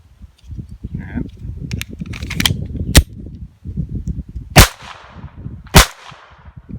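Several sharp, loud reports from a Taurus TX22 .22 pistol firing CCI Mini Mag rounds, spaced irregularly a second or so apart, with a person's voice murmuring underneath.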